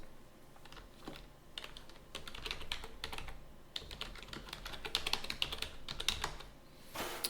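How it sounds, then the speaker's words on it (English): Typing on a computer keyboard fills the stretch with a steady flurry of close, sharp key clicks in irregular bursts, some louder keystrokes standing out, with no one talking. "so we will just type that in"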